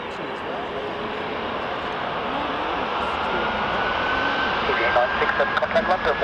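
An Air Transat A310 jet takes off from runway 08 right at London Gatwick, a steady broad engine roar building slightly in loudness, heard from a distance outdoors.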